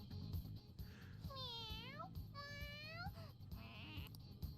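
Morgana the cat meowing in Persona 5 Royal: two drawn-out, rising-and-falling meows in quick succession, followed by a shorter third cry, heard quietly over a low background.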